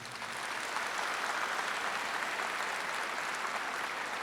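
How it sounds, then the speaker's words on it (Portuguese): A congregation at a Catholic Mass applauds during the homily, making a continuous, even wash of many hands clapping. It sounds somewhat distant and moderately quiet and holds steady from start to finish, with no talking over it. "Aplaude a palavra de Deus."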